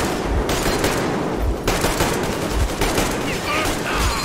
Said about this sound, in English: Now we get to shoot people.